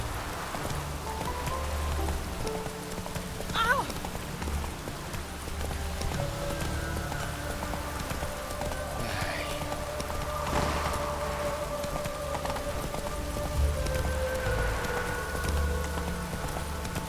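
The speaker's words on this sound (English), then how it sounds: "No use doing any work in this rain." Steady rain falls across an outdoor scene in The Witcher 3, a continuous soft patter with horse hooves clip-clopping and faint ambient game music underneath, no voices.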